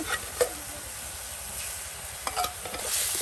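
Chicken pieces frying with spices in a pan, giving a steady sizzle and hiss while a spoon scrapes and stirs with a few knocks.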